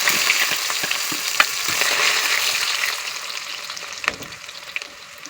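Ginger frying in hot coconut oil with popped mustard seeds in a pan for a dry chicken dish, a dense close crackling sizzle with sharp pops and stirring clicks throughout, no voices.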